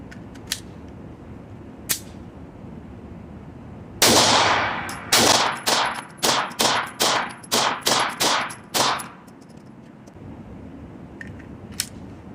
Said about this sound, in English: 10 round brass going hot.